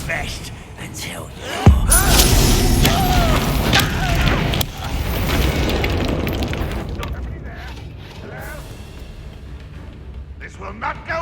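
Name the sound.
Bombarda explosion spell cast in Hogwarts Legacy video game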